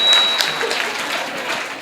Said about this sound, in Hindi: बहुत जोरदार तालियां बजाएं।